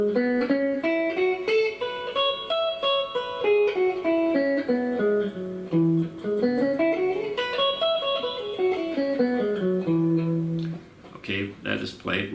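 An electric guitar plays a blues lick without the passing tone, a run of clear single notes rising and falling over several seconds, ending with a few short plucked notes.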